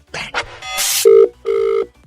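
An old-style telephone bell rings in two separate bursts, loud and near, in a radio comedy prank call. Some clattering sounds come before the rings.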